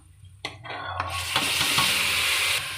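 Tomatoes just added to golden fried onions sauté in a pan for egg biryani, a steady close sizzle with stirring scrapes and clinks building after a brief quiet start.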